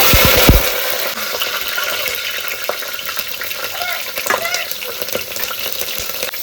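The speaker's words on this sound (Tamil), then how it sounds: "பட்டை கிராம்பு ஏலக்காய் தாளிக்க வேண்டிய பொருள்லாம் தாளிச்சுக்கலாம்" Steady, loud sizzling of cinnamon, cloves and cardamom tempering in hot oil for chicken biryani, a dense crackling hiss that continues without pause.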